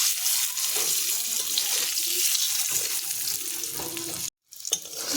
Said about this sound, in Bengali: হালকা আছে ভাজতে হবে, তাহলে ডিমগুলো সুন্দরভাবে ভাজা কালারও চলে আসবে